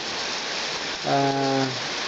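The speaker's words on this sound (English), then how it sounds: "So until the rain eases off, because this is what we're facing at the moment" Steady outdoor rain hisses throughout, and a short tonal hum rises over it in the middle before fading.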